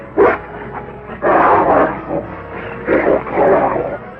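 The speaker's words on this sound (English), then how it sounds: "Killer dogs he had not yet learned to tame." Several loud, close barks and yelps in irregular bursts, with growling between them, like an agitated dog or two.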